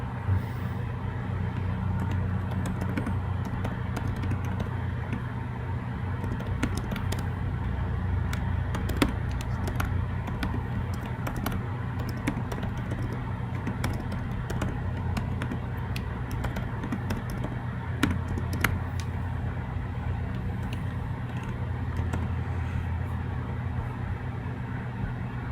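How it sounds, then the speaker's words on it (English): Steady keyboard typing at a computer, continuous clatter of keystrokes at moderate distance over a low background hum, no talking. "always great to just listen and watch a guy typing"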